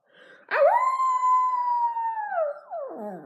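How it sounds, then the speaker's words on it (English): A small dog lets out one long, drawn-out whining cry that slides downward at the end, close by and clear. "No, that's not a howl. That was a whimper."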